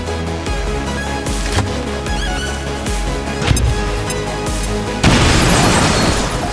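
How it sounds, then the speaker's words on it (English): A grenade explodes in the XCOM 2: War of the Chosen video game, one loud, sharp blast near the end that cuts through dense, steady game music. "Throw a grenade!"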